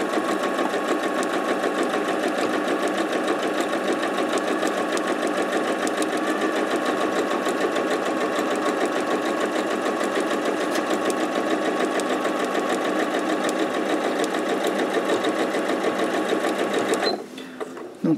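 A sewing machine runs steadily and loudly, stitching fabric for a paper towel and wipe project, its rapid mechanical whir continuous for almost the whole stretch and cutting off abruptly near the end.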